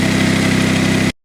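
Honda HT3813 lawn tractor engine idling while it warms up: a steady, loud, close mid-pitched running drone with even low pulsing, cutting off abruptly near the end.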